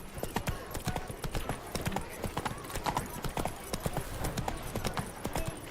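Rhythmic clip-clop of a horse galloping in The Witcher 3: Wild Hunt, steady hoofbeats running throughout at close range with occasional faint game voices mixed in.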